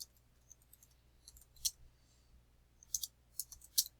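Faint, sparse clicks of a computer keyboard as a few keys are pressed while entering text into a spreadsheet in Excel, with quiet pauses between the keystrokes.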